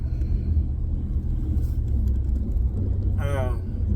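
Inside a moving car, a low, steady road rumble and engine drone runs throughout, with someone talking over it near the close.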